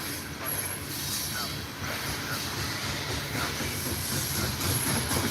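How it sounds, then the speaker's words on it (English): A BNSF coal freight train rolls past at night with a continuous, loud rumble of wagons, steady clatter and faint high metallic squeal from the wheels, filling the whole stretch without pause. "Just your average coal train."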